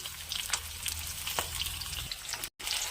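Onions, green chilies, cumin, mustard seeds, curry leaves and lentils fry in oil in a kadai, a faint steady crackling sizzle with occasional light stirring taps.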